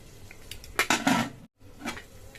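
A metal lid comes off a biryani cooking pot with a few clattering clanks and scrapes, a brief burst then a short pause and one more softer clink.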